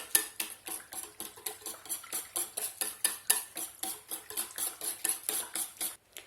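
A whisk or spoon stirs crêpe batter in a mixing bowl, making rapid, rhythmic clinking scrapes against the bowl about three times per second, close and moderately loud, then stopping at the end.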